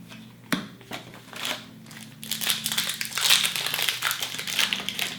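A booster pack of trading cards for L'invasion des machines being torn open, a sharp tear followed by loud, continuous crinkling and crumpling of the foil wrapper, close to the mic.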